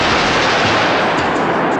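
Continuous, loud, dense automatic weapons fire during military-style training, a solid unbroken roar of rapid shots with no gaps and no voices.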